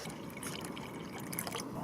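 Water pours quietly into a freeze-dried pasta primavera meal pouch, a soft continuous trickle and splash with faint drips, heard at low level and fairly close.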